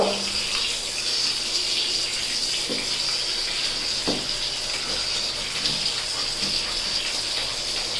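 Water runs steadily from a tap while a golden retriever is bathed, a continuous close gushing hiss with faint knocks underneath.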